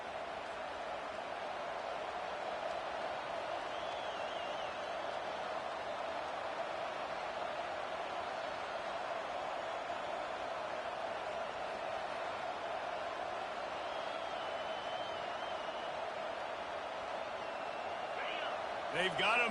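Steady roar of a large stadium crowd in an American football video game, a constant wash of cheering and noise filling the whole stretch with a brief swell near the end.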